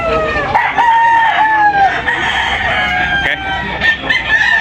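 Chickens clucking and roosters crowing loudly and close, many birds overlapping continuously in a busy, noisy flock.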